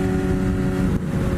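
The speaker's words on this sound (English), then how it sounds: "And I'm sure you guys can hear the exhaust," A Yamaha FZ1 motorcycle with an aftermarket exhaust revs loudly and close by, a steady rough engine drone with one brief dip midway.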